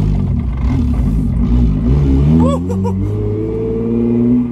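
A single-turbo BMW 335i engine revs up and settles, a loud, close rising and falling drone with a brief clattery spike midway before holding a steady idle-like hum.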